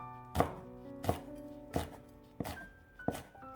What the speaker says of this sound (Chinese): 下面准备几个小米辣，把根蒂去掉，再给它切成圈。